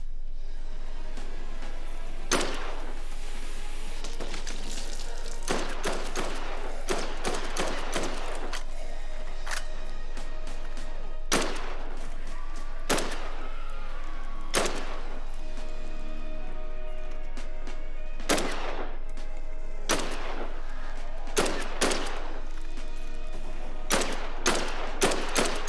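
In Dead Island 2, sharp gunshots ring out in scattered single and double cracks with short bursts between them, loud and close against a quiet game background.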